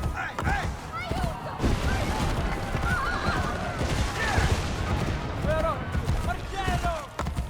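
Several high, wavering horse whinnies from Assassin's Creed: Brotherhood repeat over a busy bed of hoofbeats and thumps, with a voice talking in between.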